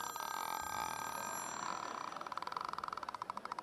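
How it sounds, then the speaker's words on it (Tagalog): A telephone bell rings in quiet, rapid trills, the rattling pulses clearer toward the end, faint and indoors. "sabi ko na may teleponong tumutunog"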